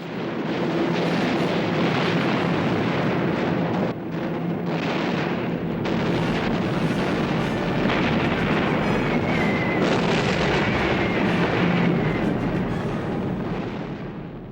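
German anti-aircraft guns fire at bombers over oil fields in a Second World War raid, a dense continuous roar of blasts and rumbling that stays loud and unbroken throughout with no talking.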